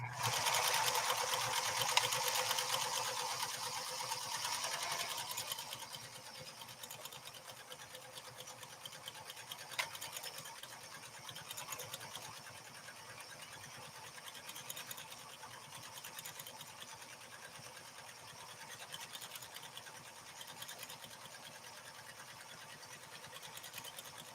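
A PFAFF 360 sewing machine, one used for sewing sailboat sails, runs with a steady whirring stitch throughout, louder and busier in the first few seconds before settling into an even hum.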